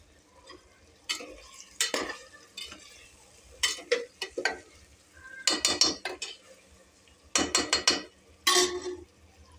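Eggs being stirred and fried in a pan for egg biryani, with repeated bursts of scraping and clinking from a utensil against the pan over a faint low sizzle.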